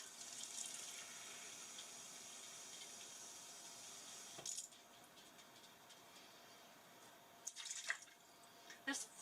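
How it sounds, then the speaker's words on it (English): Water running from a tap and poured into an Instant Pot in a home kitchen, a faint steady trickling stream with a few clinks and knocks of handling near the middle and end. "I've got to put a cup of water in"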